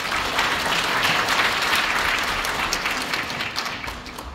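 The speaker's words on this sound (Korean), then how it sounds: "박수로 맞아주시기 바랍니다." Audience at a city development presentation applauds in a dense, continuous round that holds steady and then begins to thin toward the end.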